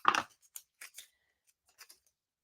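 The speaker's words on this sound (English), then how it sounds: "So I'm just going to cut them off a little." Scissors snipping linen thread during a paper-crafting session: one louder close cut followed by several quieter, quick snips spaced out in near silence.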